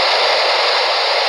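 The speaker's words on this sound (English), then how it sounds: "we'd have this static all the time in between conversations" A radio scanner with squelch open gives loud, steady, unbroken static hiss that fills the whole moment with no voices.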